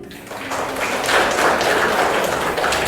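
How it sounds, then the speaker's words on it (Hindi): Audience clapping at a Vishwakarma Day celebration in Faridabad, a steady, fairly close patter of many hands that swells slightly midway and holds, with little talk over it. "अपने लिए बाबा कहते ताली बजाओ।"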